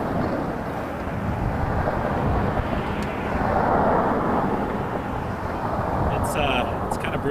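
Airplane at Toronto Pearson airport (YYZ) on a freezing day, heard as a steady broadband engine roar that holds loud and continuous throughout, mixed with outdoor wind rumble.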